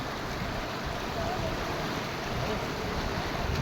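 Floodwater surging at speed through a flooded village makes a constant, dense rushing roar, close and loud, with gusts of wind noise over it and no pause.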